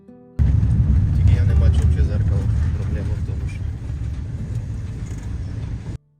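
A van driving along a restricted access road, its engine and road noise forming a steady loud rumble throughout, with people talking over it.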